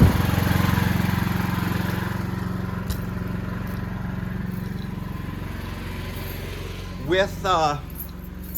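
A standby generator engine runs steadily under a large heating load, a constant low drone throughout, with a brief rising whine near the end.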